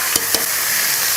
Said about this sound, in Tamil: இப்போ இந்த எண்ணெயில் வந்து நம்ம இந்த காலிஃப்ளவர் போட்டுருவோங்க.